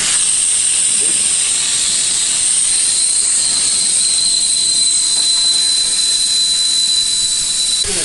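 Air rushes out of a Ford Ranger tyre through its open valve after the valve core is unscrewed, making a loud, continuous, high hiss that holds steady from start to finish at close range.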